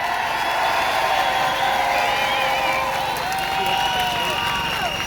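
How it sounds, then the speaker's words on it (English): New Year's Eve crowd in Belfast applauding and cheering steadily, a continuous wash of clapping with whistles and voices rising through it. "Give a big round of applause for Ben,"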